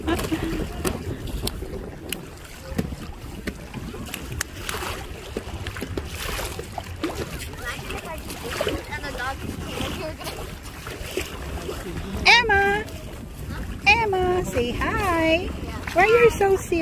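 An Intex Seahawk 4 inflatable boat being rowed on open water in Canada in summer, with wind buffeting and faint water noise under people talking and chanting close by.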